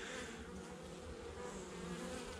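Honeybees from a broodless colony buzz steadily and densely during a November hive inspection, a close, continuous hum with no voices.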